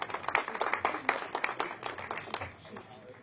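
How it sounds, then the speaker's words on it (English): Audience applause at a dinner gathering just after a presentation, a dense patter of many hands clapping at moderate distance that thins out and fades toward the end. "One more great round of applause."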